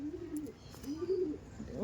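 Madrasi pigeons coo close by in a house loft, with low, rolling, repeated coos and a few faint chirps in the background.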